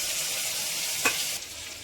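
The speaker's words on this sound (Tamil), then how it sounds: "வெங்காயம் நல்லா வதங்கிருச்சு." Onions sautéing in a pan give a brief, even frying hiss with one quick clink of a utensil partway through.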